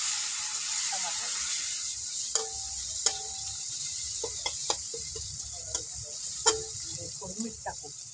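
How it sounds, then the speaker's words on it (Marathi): Chopped tomatoes fry in oil in a pan over a wood-fired chulha, giving a continuous hissing sizzle broken by a few sharp stirring clicks, with a voice heard faintly at times. "टमाटर जरा वेळ लागते जरा चांगलं तेला चांगलं तळून घ्यायचं टमाटर"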